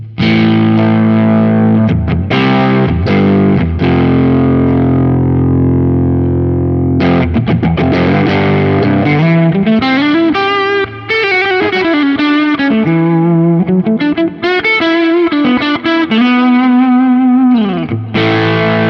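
Electric guitar played through a Quad Cortex capture of a high-gain distortion pedal, loud and saturated, with sustained chords and then riffing melodic lines ringing continuously, no voices.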